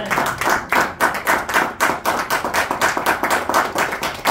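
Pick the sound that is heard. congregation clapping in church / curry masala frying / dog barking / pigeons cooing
congregation clapping in church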